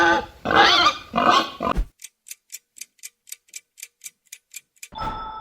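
A pig makes three or four quick, rough oinks and grunts close up. Steady clock ticking follows in a quiet space, with no talking.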